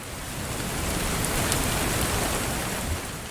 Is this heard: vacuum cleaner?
no